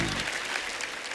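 Dense studio audience applause at a TV comedy show fills the whole short stretch, steady and fairly loud, with a faint hint of voices underneath.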